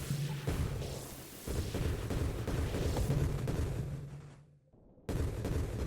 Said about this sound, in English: it fires the grenades off to the side